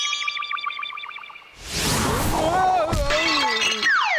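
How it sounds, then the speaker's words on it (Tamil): A clay pot shatters in a Tamil cartoon forest scene: one loud, broad crash bursts in after a brief musical passage, then rings on under cartoon sound effects and voices. "அந்த பானை உடைஞ்சு போச்சுடா"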